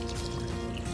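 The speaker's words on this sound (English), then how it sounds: "Now this is time to pour some water for the last time." Water pours steadily into a pot of mutton bhuna, the meat and spices already cooked down until the oil separates, making a continuous loud splashing trickle with no pause.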